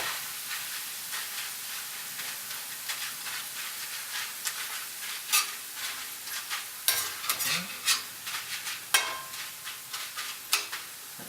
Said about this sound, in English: Just move those around so that they fry evenly in there.